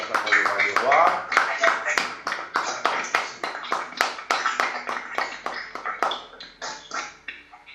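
A church congregation claps in rhythmic acclamation during a French-language worship service, a steady run of sharp hand claps close and loud, with voices speaking or singing underneath.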